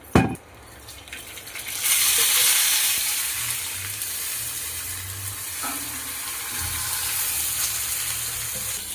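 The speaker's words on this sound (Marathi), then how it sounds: "आता आपण धने टाकून घेऊ. गरम मसाला सगळा. थोडस तेल टाकू. छानस तळून घेऊ." Coriander and garam masala frying in hot oil for a chicken bhaji, with a steady, close sizzle that swells after a brief clatter at the start and holds through to the end.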